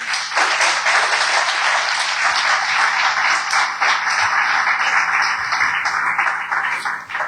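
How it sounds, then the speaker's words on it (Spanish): A church congregation applauds steadily for several seconds, a dense, even wash of clapping with no talk over it. "¿Le puede dar un aplauso al Señor?"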